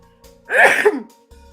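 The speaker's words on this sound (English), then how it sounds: "I gotta sneeze" A single sharp sneeze bursts out up close, a short breathy intake followed by the explosive release, then quiet.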